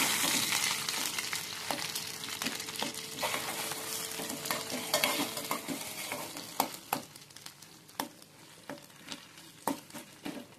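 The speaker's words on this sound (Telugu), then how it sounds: "ఇప్పుడు దీంట్లో పిజ్జా వేసుకోవాలండి. ఈ పిజ్జాని కలిపేసుకోవాలన్నమాట." Bheja fry cooks in a tablespoon of hot oil, crackling in a continuous low sizzle while a spoon stirs and scrapes the pan in irregular clicks and taps.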